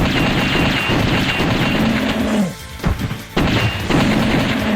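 Gunfire strikes a boss's weak point in a video game, a dense stream of booming, crashing blasts with falling, sweeping tones that briefly drop out in the middle before the barrage resumes.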